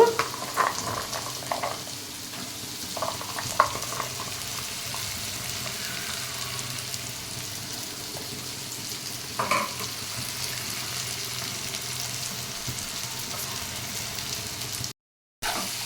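Jackfruit seeds fry with browned onion pieces, a soft steady sizzle with occasional stirring scrapes and faint clinks, moderately quiet, cutting out briefly near the end.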